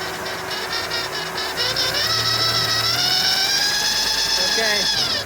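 A 1948 Willys CJ-2A engine with a noisy water pump revs up under throttle, a steady mechanical drone with a rising whine and squeal on top, close and loud, with people talking over it.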